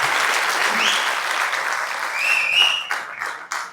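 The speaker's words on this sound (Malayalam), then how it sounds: "ഒരു കയ്യടി പ്ലീസ്." Audience applause at a film pre-release event, steady crowd clapping for several seconds under a brief voice and whistle-like tones, tapering off into a few separate claps at the end.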